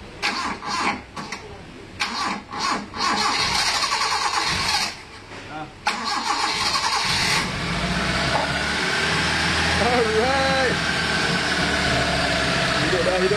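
A 1986 Proton Saga Orion 1.5S car engine under restoration cranks in several short bursts, then catches and settles into a rough, steady idle; voices talk at the start and over the running engine.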